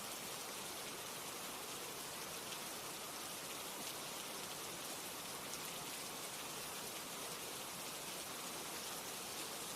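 Heavy rain pours steadily in a dense, unbroken hiss throughout, even and moderately quiet, with no voices or other sounds.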